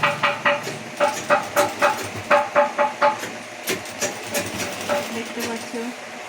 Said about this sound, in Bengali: সেলাই করছি।